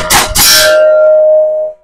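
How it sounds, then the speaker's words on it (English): A bullet from a Kel-Tec SUB-2000 in .40 caliber strikes a steel target plate with one sharp clang, leaving a clear metallic ring that sustains and slowly fades for over a second. "The ones that you didn't hear go ding were just slightly off the plate."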